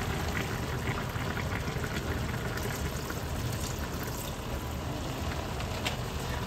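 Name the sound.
vinegar poured into boiling pork adobo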